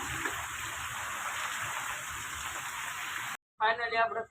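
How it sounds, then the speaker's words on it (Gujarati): Heavy rain pours down steadily as a dense, even hiss, then cuts off abruptly near the end as a voice begins talking. "વરસાદ ધોધમાર આવે છે ત્યારે પાણી ભરાઈ ગયું"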